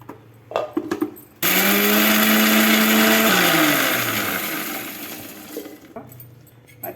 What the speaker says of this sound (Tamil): மல்லியை போட்டு முதல்ல அரைக்கணுங்க.